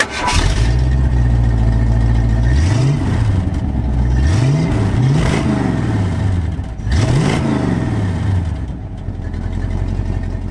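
A 2020 Ford Mustang Shelby GT500 idles with a deep, loud exhaust note, then is blipped through several sharp revs that surge and fall back to a rumbling idle between them.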